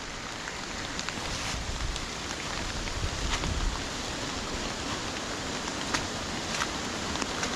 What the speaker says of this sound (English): here's a heavy droplets of rain off the canopy again